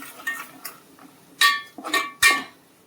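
A spoon stirs spices and turmeric through oil in a metal pan for a Maharashtrian prawn curry, giving a few sharp, close metallic clinks and scrapes spaced irregularly over a quiet background.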